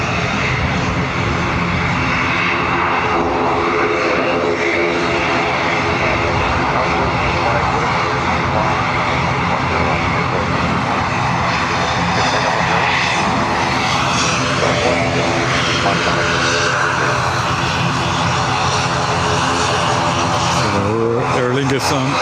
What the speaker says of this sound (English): ATR is just turning now